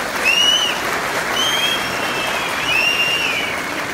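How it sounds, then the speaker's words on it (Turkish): A party congress crowd in Kırıkkale applauds members of parliament with steady, dense clapping, while a few high whistles rise and fall over the continuous roar of hands. "öncelikle milletvekillerimize kuvvetli bir alkış istiyorum sizden"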